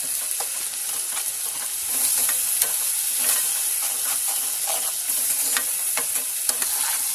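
Masala with yogurt sizzles and fries continuously in a pan while being stirred, a loud, even hiss broken by occasional soft scraping clicks.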